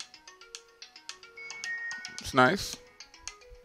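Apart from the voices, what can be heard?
TCL Go ringtone playing on a TCL 10L phone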